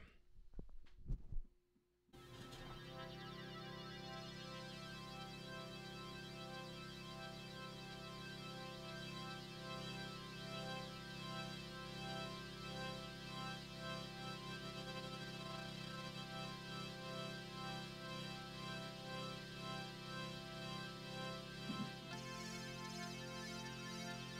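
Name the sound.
synthesizer organ sine wave with LFO rate modulation in Ableton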